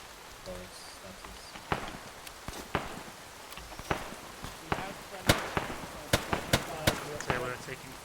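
Gunfire in a military video game, a scattered string of sharp distant shots and cracks, irregular and spread across the whole stretch, with voices talking underneath.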